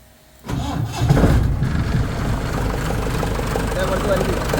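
A car engine cranks and catches after a short quiet moment during a radiator coolant flush, then settles into a steady, fairly loud idle running close by.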